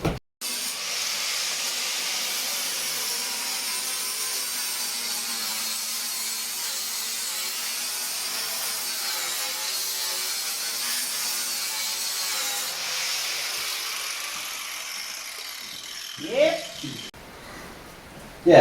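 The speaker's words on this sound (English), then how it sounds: "cut the floor pan out now" Continuous hissing cut from a power tool slicing out the floor pan of a classic VW Beetle, steady for most of the clip, ending with a few louder knocks and clatter.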